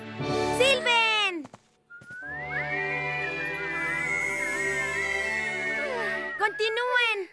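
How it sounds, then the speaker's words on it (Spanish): A long, wavering melodic whistle carries on for several seconds in an animated children's bedtime story, with excited voices speaking just before and after. "¡Silben!"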